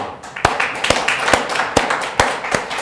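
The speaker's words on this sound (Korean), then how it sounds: "하나님께 영광의 박수." Congregational applause at a Christmas Eve church service, heard as a series of sharp, loud claps at irregular intervals over a steady crowd clapping background, with no talking.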